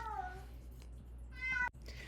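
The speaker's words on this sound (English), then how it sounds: "Sorry about my cat." A house cat meows twice indoors, a falling cry near the start and a second clearer meow about halfway through, close and moderately loud against a low steady hum, with no talking.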